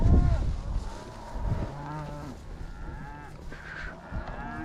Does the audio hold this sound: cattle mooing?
yes